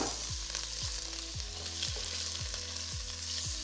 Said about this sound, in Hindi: हल्का सा हम इसको फ्राई करेंगे ताकि चिकन की स्मेल खत्म हो जाए